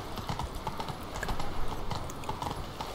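Hooves of Roach, the horse in The Witcher 3, galloping in a steady rapid clip-clop rhythm, close and moderately loud for three seconds with no talking.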